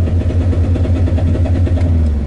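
A car, a Gol, revs its engine in a steady mid-pitched roar with a strong low throb, close and loud throughout, no talking over it.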